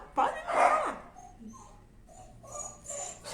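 Dogs bark and whimper indoors: one loud yelping burst near the start, then softer whines and short yips follow intermittently.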